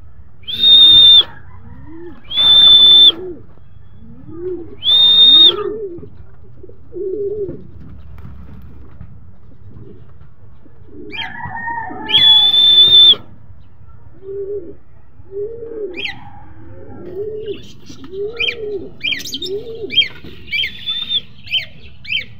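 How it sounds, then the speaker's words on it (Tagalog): Pigeons coo in repeated low, rolling calls close by, spaced out and then quickening, with a few sharp, bright chirping bursts from other birds in between. "May mga galing sa south mga kalapatids oh"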